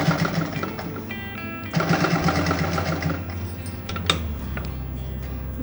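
A sewing machine stitches a strip onto a kurti collar neck, running in a fast, steady mechanical whir close by. There is a brief pause, then a second burst of stitching, with no talk.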